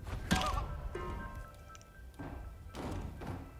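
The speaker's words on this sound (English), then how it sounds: "we're going to throw this propane flask at our target's head" A propane flask thrown at a target's head in the stealth game Hitman 3 lands with a sharp, close thud, followed by a few softer, muffled thumps and knocks in a quiet interior.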